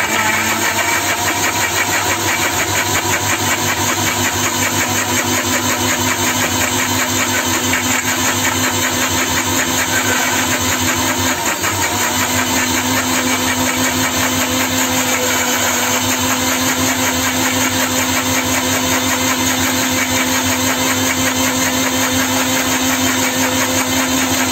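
Electric mixer grinder motor blending a banana and milk shake, a loud, steady, high-pitched whine with a constant hum that runs without pause throughout.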